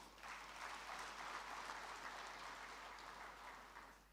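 Audience applause at a procurement certification convocation, a steady wash of clapping from a crowd that holds for about four seconds and tapers slightly at the end, heard at a moderate distance with no talk over it.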